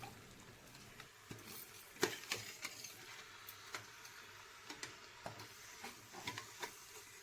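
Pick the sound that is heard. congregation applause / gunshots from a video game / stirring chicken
stirring chicken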